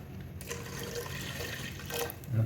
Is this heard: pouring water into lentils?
yes